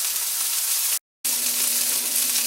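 Bacon sizzles and fries steadily in a cast iron pan, a continuous close crackling hiss broken by one brief moment of silence.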